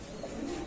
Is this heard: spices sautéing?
no